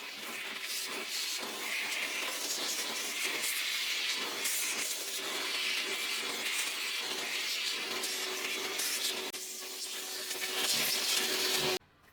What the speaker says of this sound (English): If you have a toner vacuum, use it to clean the chamber just like I'm doing in this video.